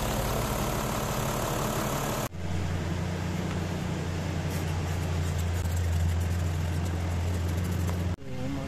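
A Toyota 1HD-FTE diesel engine idles steadily after a valve clearance adjustment, giving a close, loud, even low rumble that runs unbroken for several seconds with no talking over it.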